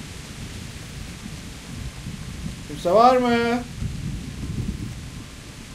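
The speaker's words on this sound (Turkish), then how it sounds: "Nasıl çakıyor şimşek?" Steady low rumble of thunder and rain during a storm in a video game, continuous and fairly loud throughout, with a brief spoken voice partway through.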